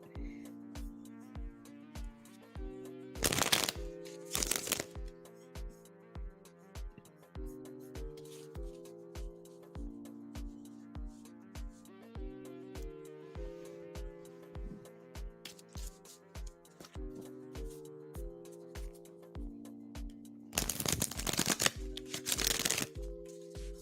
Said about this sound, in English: I'm about to shuffle for you now.